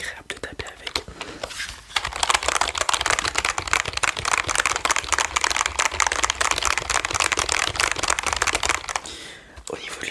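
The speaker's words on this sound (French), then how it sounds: "C'est plus agréable de taper avec." Dense, rapid clatter of typing on a gaming computer keyboard with keys shaped to the fingers, close and continuous for about ten seconds, with a brief pause near the two-second mark.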